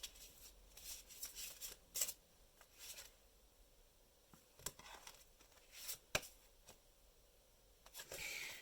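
Tarot cards being shuffled by hand, quiet irregular bursts of papery riffling and slapping with short pauses between them, faint and close, no talking.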